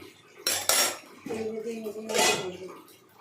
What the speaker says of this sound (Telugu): ఇప్పుడు ఇలా కలిపెట్టి మళ్ళీ కాసేపు మూతల పెడదాం